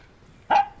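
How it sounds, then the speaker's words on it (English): A single sharp dog bark from a video game sounds loud and close, standing out alone against a quiet background. "Why'd you go back into your kennel and then start barking at me?"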